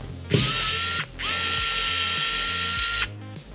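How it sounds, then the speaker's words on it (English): Powered driver whirring as it backs screws out of the wheels of a JXC LR 1801 RC car, two sustained motor runs with a brief pause between, close and alone. "We need to take out these screws,"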